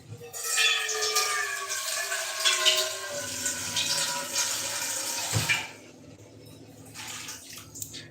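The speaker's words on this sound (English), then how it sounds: "I'm going to add a little bit of water into it." Water poured from a container into a pan of potatoes, onion, capsicum and vegetables being cooked, a loud rushing gush with rising tone for several seconds, then quieter sizzling.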